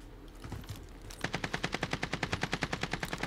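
Gunfire in a video game, a close, loud automatic burst of rapid evenly spaced shots after a moment of quieter scattered noise.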